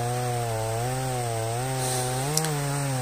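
A 62 cc chainsaw bucks giant ash logs, its engine droning loud and steady at close range, the pitch wavering slightly under load, with no talk.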